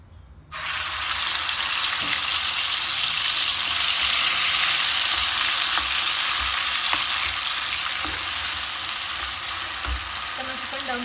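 Sautéed spice paste dropped into hot oil for spicy potato mustopa, erupting into a loud, sudden sizzle after a brief quiet start, then a dense steady crackle with occasional stirring clicks.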